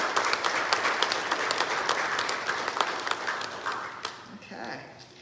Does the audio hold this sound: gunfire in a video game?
no